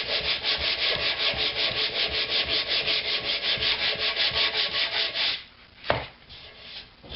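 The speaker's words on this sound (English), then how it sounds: "Maybe just a couple more strokes of sandpaper here." Hand sandpaper rubs over plastic wood filler on a Kalamazoo amp cabinet in quick, even back-and-forth strokes, close and loud. The strokes stop after about five seconds, leaving a faint knock and quiet handling.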